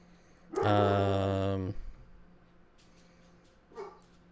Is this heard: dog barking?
yes